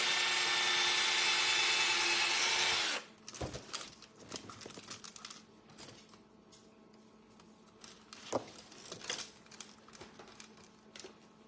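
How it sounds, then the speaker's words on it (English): A loud whirring power drill runs for a few seconds drilling a hole in wood for a sugar glider toy, then stops, followed by quieter scraping, knocks and handling noises. "Looks like I want to drill a hole over here too"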